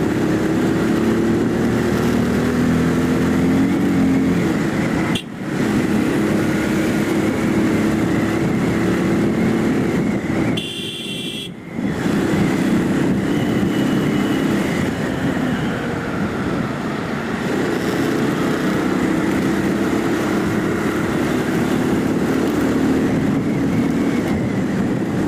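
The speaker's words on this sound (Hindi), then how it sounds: "थोड़ा सा रेव करते हैं बाइक को।" A Bajaj Pulsar 220F motorcycle engine runs and revs at close range, a sustained droning roar with two brief cuts where the sound drops away before the engine note returns and carries on steadily.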